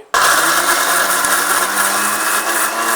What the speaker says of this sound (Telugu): మిక్సీ ఆడుకోవాలి